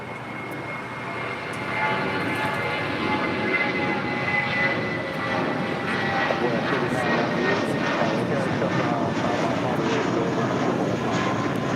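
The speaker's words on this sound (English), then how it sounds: "It's Delta Airlines flight 2382 coming in from Kansas City on the 737-800." A Delta Air Lines Boeing 737-800, flight 2382 from Kansas City, arriving at LAX: a sustained jet engine roar with a thin whine that builds after the first couple of seconds and holds steady, fairly close.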